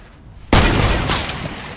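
A single loud gunshot in Fortnite, likely from a hunting rifle, bursting in abruptly after a quiet half second and ringing out in a long decaying echo.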